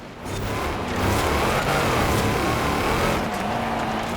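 The engine of a 2016 Jeep Trailcat in Forza Horizon 4 drones steadily through an off-road race, a loud, rough, continuous rumble with slight shifts in pitch.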